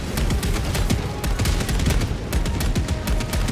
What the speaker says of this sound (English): I know these autocannons are stronger than the autocannons from that you hold in your hand.